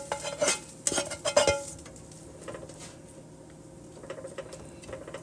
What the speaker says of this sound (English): And now I'm going to add my spinach and my scallions to the other side.